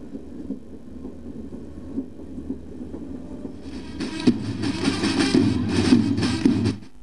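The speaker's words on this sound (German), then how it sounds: "Fahren wir ein Stück mit unserer Wald- und Straßenbahn." A forest and street tram rolls along its rails in Strausberg, starting as a low rumble and growing into loud clattering and screeching as the car passes close by, with no talking.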